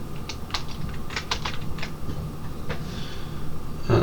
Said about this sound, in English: so it doesn't take that long to type everything